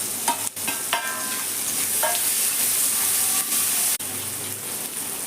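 Tomatoes and green chilies fry in a pan with Kashmiri chili powder and turmeric, giving a steady loud sizzle broken by a few scraping stirs, close up, with no talking.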